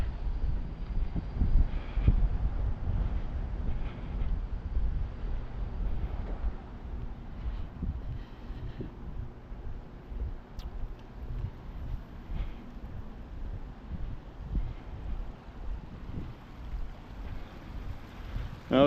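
Breezy outdoor wind buffets the microphone during a walk, a steady low rumble with gusts that are strongest early on and then ease to a softer, continuous rush with a few faint clicks.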